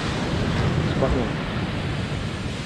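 Ocean waves wash onto a beach at Alas Purwo, Banyuwangi, a loud continuous roar of surf mixed with wind buffeting the microphone, while someone speaks briefly over it.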